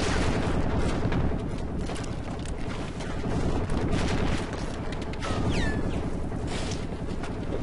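Bursts of automatic gunfire from a first-person shooter game (Crysis) crackle in rapid volleys throughout, loud and dense, with a few brief whooshing effects near the end.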